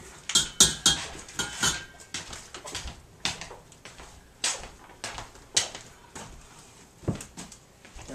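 Metal utensils scrape and clink against a dish while scooping hard, freezer-cold butter, a run of irregular close clatters and knocks that ease into softer taps, with no talk over them.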